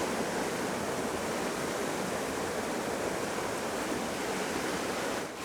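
Ruscombe Brook rushes with force into the Stroudwater near Dudbridge Locks, a steady, loud broadband roar of churning water that holds constant throughout, close by and without any talking.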